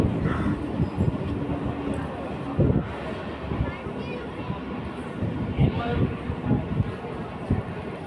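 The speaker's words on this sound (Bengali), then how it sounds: "আর ট্রেনটাও আমাদের নামিয়ে যাত্রা শুরু করলো কল্যাণী সিটির উদ্দেশ্যে।" A passenger train pulls away from Sodepur station with a low rumble and rattle, partly buried under nearby voices and children's chatter.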